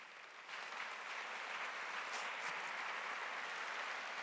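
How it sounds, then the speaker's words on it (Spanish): A church congregation applauds Jesus during a sermon by Pastor Gabriel Acero, with sustained steady clapping from a crowd that starts abruptly and continues evenly throughout, somewhat distant and without voices. "Dale un aplauso a Jesús"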